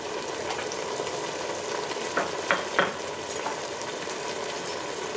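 Spiced lentil mixture with hot pepper cooking in a pot, stirred with a few scraping clinks over a soft constant sizzle, fairly quiet and with no speech.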